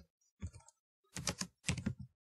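Computer keyboard typing: three short, close bursts of rapid key clicks separated by brief pauses, quiet and clear with no voice.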